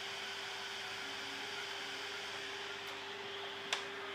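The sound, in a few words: salvaged desktop PC cooling fan spinning up loudly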